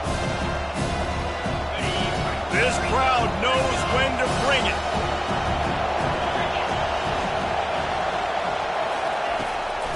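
Stadium crowd noise in a college football video game, a steady roar and cheer swelling throughout beneath continuous play-by-play commentary.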